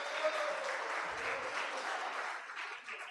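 A church congregation claps in praise during a sermon, a continuous wash of hands applauding at moderate distance, holding steady and easing slightly toward the end.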